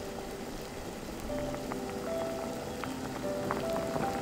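Korean taro soup at a rolling boil on high heat, a steady bubbling hiss with scattered small pops and ticks, close and moderately quiet, no talking.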